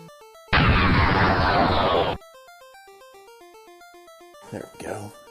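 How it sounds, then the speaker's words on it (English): A loud explosion blast from the video game Super Metroid, a dense roaring burst of about one and a half seconds over a quiet musical background, followed later by brief speech. "Incoming explosion."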